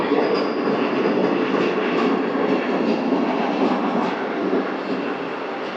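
The white Vande Bharat express, train 20678 from Vijayawada to Chennai Central, rolls in at Ongole station with a continuous rumbling roar and faint high squeals, steady and fairly near throughout without talk.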